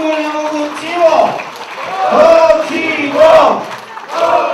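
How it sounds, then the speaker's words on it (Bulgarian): Wedding guests clap and cheer for the newlyweds in loud, swelling waves. Many voices shout together in a chanting crowd roar that rises and falls several times. "аплодисменти за Славчо, аплодисменти за Цвети, едно силно и голямо горчиво!"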